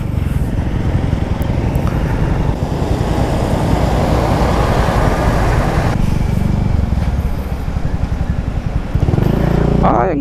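A motorcycle rides along a road on the trip from Manila to Aklan, its engine rumbling loud and steady with road and wind noise, easing briefly near the end.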